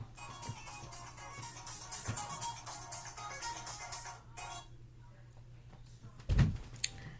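A mobile phone rings with a looping electronic tune, moderately close and alone for several seconds, ending before a sharp clunk and a brief rustle.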